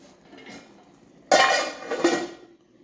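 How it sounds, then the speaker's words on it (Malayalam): A metal lid lands on a pot of Kerala fish curry with one sharp clank, followed by a second rattling clink as it settles, close and loud against a quiet kitchen hum. "അത് നമുക്കൊന്ന് മൂടി വയ്ക്കാം."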